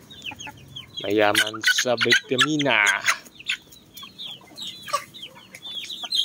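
Native Joloano chickens cluck and squawk close by while being fed papaya, a burst of loud, overlapping calls followed by scattered softer clucks, with someone talking over them.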